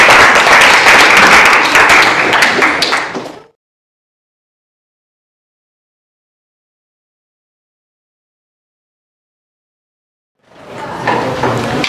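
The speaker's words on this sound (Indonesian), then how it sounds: "Baik, tepuk tangan dulu." Classroom applause from students, a loud burst of clapping that stops abruptly, followed by silence, then clapping resumes briefly at the end.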